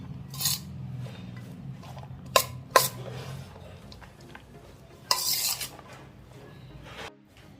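Vegetable sandwich filling being stirred in a bowl for a veg cheese grilled sandwich, giving soft intermittent scraping with a few sharp clinks of utensil on bowl, close and quiet over a low background hum.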